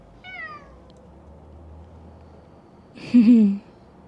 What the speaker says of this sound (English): These are street cats from Turkey.